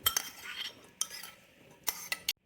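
A spoon stirs dried mixed fruit and candied peel into sourdough hot cross bun dough in a bowl, with soft scraping and a few sharp clinks against the bowl, close and quiet, no voices.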